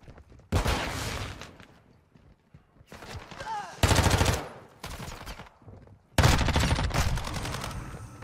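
Video game gunfight with three loud bursts of rapid automatic gunfire separated by brief pauses, each burst sustained and close, with faint voices and game sounds in the gaps.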